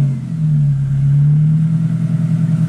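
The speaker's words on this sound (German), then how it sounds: "Achtung, es wird laut, weil nach wie vor kein Auspuff da ist." A loud, steady Ford Focus engine with no exhaust fitted drones and revs close by, raw and unmuffled, holding a low rumbling tone throughout.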